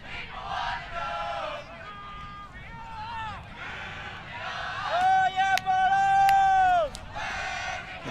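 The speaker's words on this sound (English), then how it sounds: "And chanting from GB. Good cheer from the crowd." Spectators at an Australia versus Great Britain mixed match chant and cheer for Great Britain, voices rising in sung, rhythmic swells with a loud sustained shout near the end, a commentator speaking over it.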